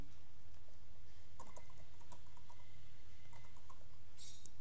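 Someone types text on a computer keyboard, producing faint, scattered key clicks over a steady low background hum.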